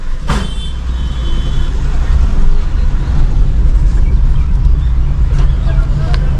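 Heavy road traffic with oncoming cars, buses and trucks, a steady low engine rumble and tyre roar around a moving car, with a brief hiss near the start and faint talk inside.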